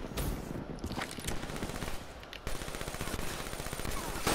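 Dense, sustained gunfire in a first-person shooter video game, rapid automatic bursts crackling almost continuously and loudly throughout, with shots striking the player.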